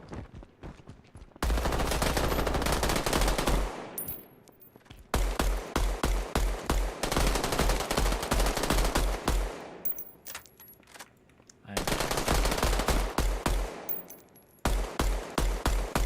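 Long bursts of rapid machine-gun fire in a shooter video game, loud and close, coming in three sustained volleys separated by short lulls.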